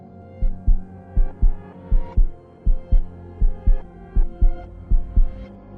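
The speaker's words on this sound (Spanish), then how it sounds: "vibrando con cada latido de Julián" A strong, close heartbeat thumps in steady double beats, lub-dub pairs repeating evenly over a low hum.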